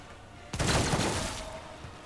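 A sudden loud burst of gunfire in the Warhammer 40k Rogue Trader video game, a sharp onset followed by a dense crackling volley that slowly fades over about a second and a half.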